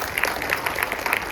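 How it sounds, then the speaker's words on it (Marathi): Applause from an audience at a Hindu community gathering, clapping for school students after their music and street-play performance; steady dense clapping throughout, moderately loud, with no talk. "या सर्व विद्यार्थ्यांसाठी जोरदार टाळ्या उठवू दे"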